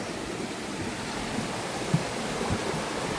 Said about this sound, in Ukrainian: Струмком його складно назвати, він дуже потужний.